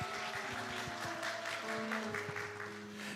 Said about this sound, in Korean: 우리 박수로 맞이하겠습니다